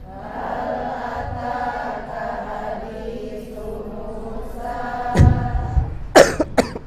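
A few sharp coughs burst out near the end, loud and close, after a stretch of steady background murmur and hum.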